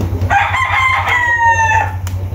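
A rooster at a small chicken farm gives one full, loud crow close by, over a low steady hum of background machinery.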